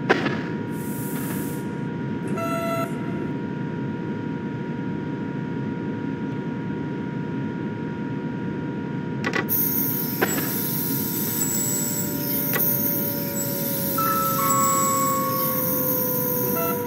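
In a train simulator game, a Trenitalia regional train arrives at a station, with a steady rumbling roll, a few clanks and a high brake squeal near the end, under brief electronic chimes.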